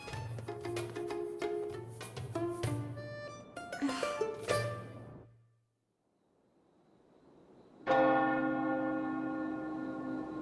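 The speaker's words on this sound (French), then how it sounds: "Déjà la cloche du soir?" An evening church bell rings in several loud, resonant strikes with long ringing decay, falls silent briefly, then a fresh strong strike swells and hums on.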